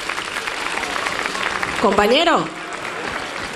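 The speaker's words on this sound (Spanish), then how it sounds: "Fuerte el aplauso para él" Audience applause at a carnival queen gala in Los Gigantes, steady clapping from a crowd while a voice speaks over it and a brief rising-and-falling tone cuts through near the middle.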